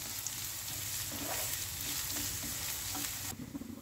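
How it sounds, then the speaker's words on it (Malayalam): Chopped onion sautéing in a pan, a dense continuous sizzle with soft stirring scrapes, close and quiet, dropping away abruptly near the end, no talking. "ഒരു സവാള ചെറുതായിട്ടരിഞ്ഞ് സവാള അതിലേക്ക് ചേർത്ത് കൊടുത്ത് നന്നായിട്ടൊന്ന് വഴറ്റിയെടുക്കുക"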